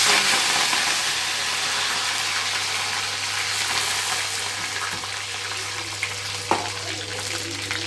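Mustard seeds and curry leaves sizzle in hot oil in a home kitchen, a loud steady frying hiss that eases slightly over time, with a couple of small pops near the end.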